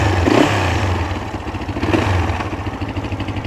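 Honda CL450 motorcycle engine fires up and settles into a steady, loud, close idle with a throbbing, pulsing exhaust beat and some mechanical clatter.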